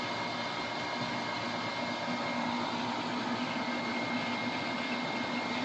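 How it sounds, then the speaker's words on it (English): Steady, even hum of an air pump running beside an Aeon Mira 9 laser engraving a bald eagle onto bamboo, a constant close mechanical drone with no talking. "That noise you hear in the background is my air pump"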